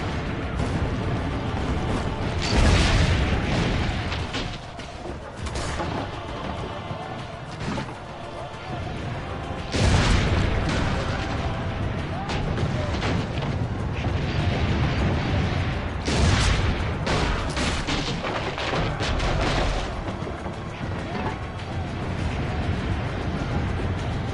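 Heavy booms and crashing impacts as siege towers are destroyed in Assassin's Creed Brotherhood, with explosive bursts recurring over a dense battle din and voices talking throughout.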